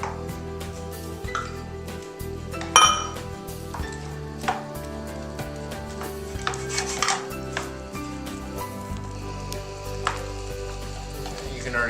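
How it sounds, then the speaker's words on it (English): Apples being stirred into a simmering apple cider sauce in a pan for curried pork tenderloin: a spoon scrapes and clinks against the pan in irregular strokes over a steady low bubbling, with no voices. "Mix your apples in there."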